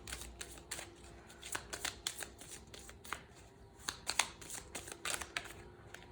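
An angel oracle card deck being shuffled, a close series of quick papery riffles and slaps in irregular bursts over a faint background, no talk.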